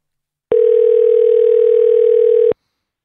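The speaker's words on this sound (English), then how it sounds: "It's ringing. It's ringing." A telephone ringback tone on an outgoing call sounds once as a single steady electronic beep lasting about two seconds, loud and close, with silence before and after.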